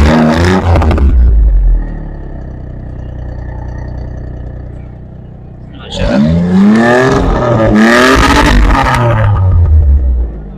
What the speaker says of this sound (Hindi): स्टार्ट करा के भी आपको एग्जॉस्ट चेक कराएंगे जी, आपको साउंड सुनाते हैं साथ साथ ही